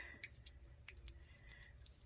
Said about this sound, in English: Let me get my little scissors right here